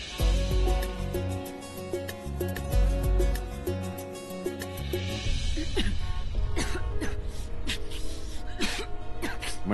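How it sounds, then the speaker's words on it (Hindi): A woman coughing and clearing her throat in a Hindi TV drama scene, with background music running throughout and a burst of sharp coughs toward the end. "मैडम जी आपको खांसी हो रहा है"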